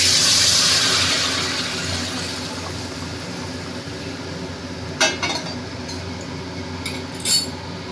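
Hot water poured into a cooking pan of cooked-down fish curry masala, a loud hissing rush at first that fades to a steady simmer, followed by two sharp utensil clinks.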